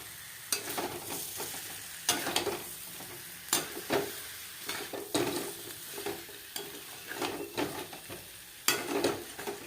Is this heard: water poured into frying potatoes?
yes